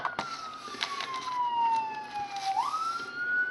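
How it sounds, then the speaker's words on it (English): A city emergency vehicle siren wails loudly and steadily, its pitch sliding down and then rising again, with no speech. "Sorry about the sirens, I live in the city."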